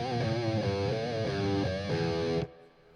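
Distorted electric guitar played through an amp with the mid knob turned down to 3, a loud chugging riff of repeated chords that cuts off abruptly near the end, no voices.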